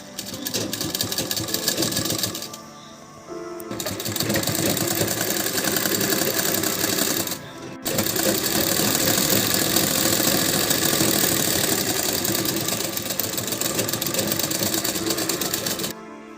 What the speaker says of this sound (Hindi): ये अब मैं बाँह पे फिटिंग की सिलाई लगाऊंगी।